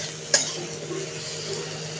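Vegetables and spices are stir-fried in a pan for a fish curry, a continuous soft sizzle close by with one sharp utensil clink near the start and faint stirring scrapes.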